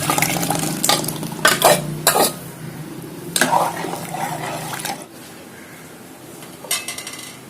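Cooked lentils poured into boiling sambar and stirred with a spoon against the pot, several clanking scrapes and splashes, loud and close, fading to a quieter simmer near the end.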